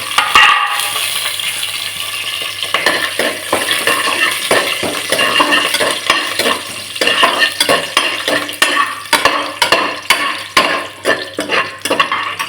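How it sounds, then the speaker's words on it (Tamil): Whole cinnamon, cloves and bay leaf fry in hot ghee in a pan, a steady close sizzle broken by repeated scraping and stirring clatters of a spoon against metal, with no talking. "அதாவது பட்டை, கிராம்பு, பிரிஞ்சி இலை இதை போட்டு தாளிச்சிக்கலாம்."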